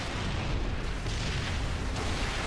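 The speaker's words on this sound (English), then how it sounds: "I'll throw a couple of grenades at it." Grenades going off in Halo 3: ODST, a dense roaring blast with sustained rumbling and debris hiss filling the whole stretch, loud and continuous with a couple of renewed bursts, no talk over it.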